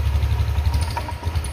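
Honda Vario 150 scooter engine with a misfiring, stumbling idle, running close and steady with a low throbbing idle and slight unevenness, no voices present.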